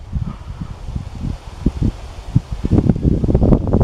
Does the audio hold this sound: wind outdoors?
yes